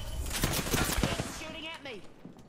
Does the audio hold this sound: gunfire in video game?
yes